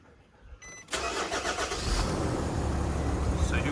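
A Nissan Navara V9X diesel with a homemade custom exhaust cranks over and starts, then settles into a steady, loud, rumbling idle close to the listener.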